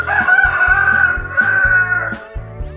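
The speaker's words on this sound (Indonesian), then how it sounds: "di pinggirnya tuh ada kandang ayam gitu, jadi suka berisik ya teman-teman" A rooster crows loudly and close by, two long drawn-out calls in a row, followed by a few softer clucks, from a nearby chicken coop before dawn.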